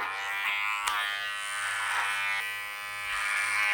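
Electric hair clippers buzz steadily and close up while trimming curly hair in a clipper-over-comb taper cut, the hum wavering slightly in pitch as the blade moves, with no talking.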